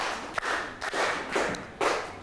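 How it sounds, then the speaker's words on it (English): A classroom of students clapping in a few loud, separated bursts, each a short burst of many hands, with quiet gaps between. "Class, let's give them 3 big claps first."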